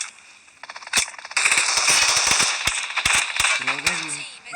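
Rapid bursts of gunfire from the mobile battle royale game BGMI, loud and dense with sharp repeated shots through most of the clip, some in quick automatic strings, over continuous game noise.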